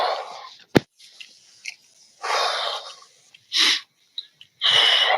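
Heavy, labored breathing from a person walking up a hill, heard as several loud rasping breaths in separate bursts, close to the microphone, with short quiet gaps between them.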